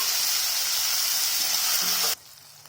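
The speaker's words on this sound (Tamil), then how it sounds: "தக்காளி நல்லா குழையிற வரைக்கும் அதை வதக்கிக்கலாம்" Steady, loud sizzling of tomatoes sautéing in a pan for sambar, which cuts off abruptly near the end, leaving quiet.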